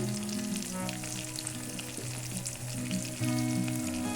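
Salt and cumin powder are added to a hot pan with tomato, and the oil sizzles and fries steadily at close range, with faint stirring and no talk.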